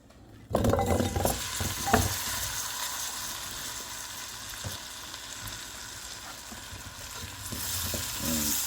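Beef meatballs going into sauce in a hot pan, heard as a sudden loud sizzle with a few clinks of a utensil against the pan, then a steady close frying hiss that swells slightly toward the end.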